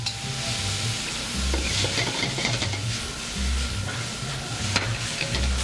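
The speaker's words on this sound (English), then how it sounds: "I want to cook these onions for a quick minute." Onions frying in a pan, with a continuous soft sizzle and scraping stirring throughout, close up and without talk.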